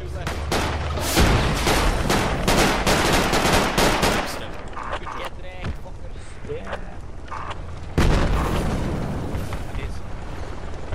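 Heavy gunfire in the Project Reality military video game during a helicopter assault, dense bursts of rapid shots and blasts that fill the scene loudly, easing midway then surging again, with radio-style voices talking over it.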